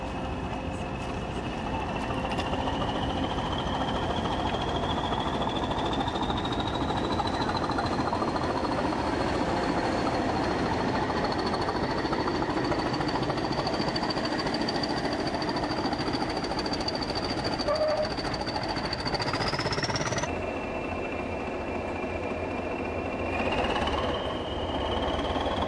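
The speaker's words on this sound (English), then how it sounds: "Now for the diesels. Here's D123." Diesel locomotive D123 on the Great Central Railway running steadily with a continuous loud engine drone and a sustained high whine that climbs in pitch, then drops after a brief pause and rises again.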